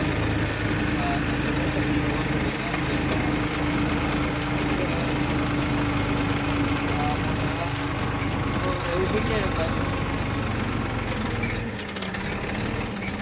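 A tractor engine drones steadily in a field, a loud continuous low rumble that holds for the whole stretch, with people talking over it.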